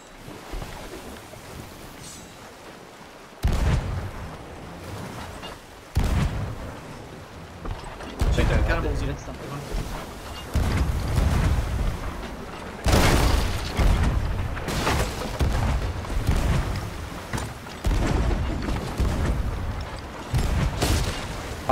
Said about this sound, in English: Somebody cannoned off their ship.